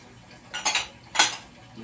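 Dishes and cutlery clatter during washing-up in a home kitchen, two sharp clinking bursts a moment apart, close and alone with quiet between.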